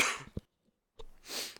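A single sharp cough bursts out close by, followed by a short breathy exhale and a second rough, throaty cough after a brief silence.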